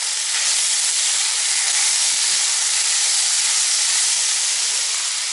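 Meat fries in a pan on a village kitchen stove, giving off a loud, steady, unbroken sizzle and hiss for several seconds with no talking.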